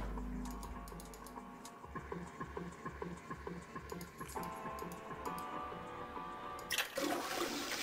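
Toilet flush in the video game 9 Hours, 9 Persons, 9 Doors, a faint rush of water with clicking, splashy bursts and a louder surge near the end.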